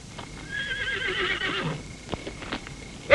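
Horses neigh loudly and shrilly, with hooves clopping and shuffling nearby, a short agitated burst.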